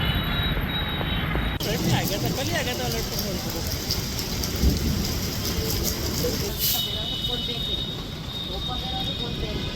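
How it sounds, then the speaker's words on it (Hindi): Steady, heavy rain pours during a hailstorm in Rajasthan, a dense continuous hiss filling the whole stretch with a brief louder swell partway through, and a voice faintly present beneath it. "रुक रुक कर कभी तेज तो कभी हल्की बारिश का दौर जारी है"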